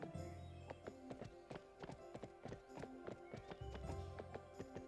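Horse hooves clip-clop in a quick galloping rhythm in the Barbie's Horse Adventures video game, steady and fairly faint with no talk over them.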